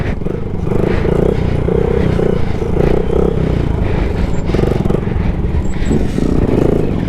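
Motorcycle engine roaring loud and close while the bike is pulled into a wheelie among fast bikes, a dense rumbling drone held steadily throughout with slight rises in pitch.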